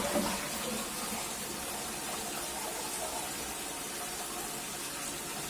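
Toilet tank refilling through a newly installed fill valve, a steady rushing hiss of water flowing into the tank close up, unbroken throughout.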